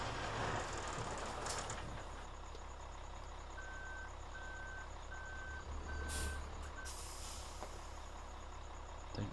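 A truck in Farming Simulator 2013 reverses with a steady series of evenly spaced electronic reversing beeps over a constant low engine drone.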